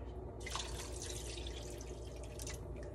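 Water is poured into a soup pot on the stove, a faint steady splashing and gurgling stream with no talking.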